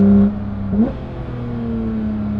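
A Porsche 992.2 GT3 with only a muffler change, exhaust valves closed, stock cats and OPF filter, gives a loud engine blip that drops quickly. It settles into a steady droning hum as the car cruises.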